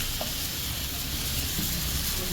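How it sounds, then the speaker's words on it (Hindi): Tomatoes and spices cook in a pan for paneer bhurji, giving a steady, soft sizzle and hiss that runs evenly throughout with no talk. "तो बस इसे कुक करते हैं फॉर 3 to 4 मिनट"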